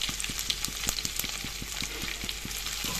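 Panch phoron spices, two bay leaves and garlic sizzle and crackle in hot oil while being stirred for an Assamese egg curry, a steady bright frying hiss dotted with quick pops and spatters, close and alone.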